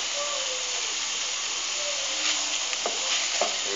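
Onions frying in a pan until translucent, a steady broad sizzle with a few soft scraping stirs near the end, close and fairly quiet, with no talk.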